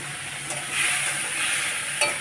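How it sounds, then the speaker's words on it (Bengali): Shrimp fries in oil with a black cumin tempering, giving a short burst of close, hissing sizzle with a couple of stirring scrapes over the brief span. "রান্না হচ্ছে এই চিংড়ি মাছটা কালো জিরা ফোড়ন দিয়ে"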